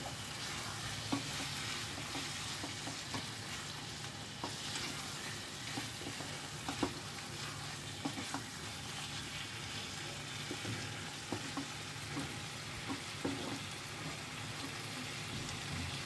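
Chicken bhuna masala stirred and sautéed in a pan, a constant dense sizzle with regular scraping stirs and occasional sharper clacks, close and steady.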